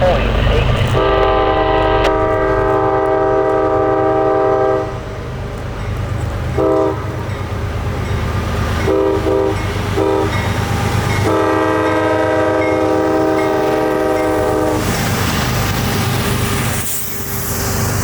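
A CSX coal train bound for a coal-fired power plant rolls past close by, its horn sounding in several long blasts over a steady rumble of railcars, with a short break between horn calls.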